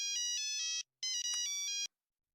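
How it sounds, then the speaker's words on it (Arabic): A mobile phone ringtone plays alone, a bright electronic melody in two bursts separated by a short gap, clear and close. "ثواني لما اشوف مين بيرن عليا"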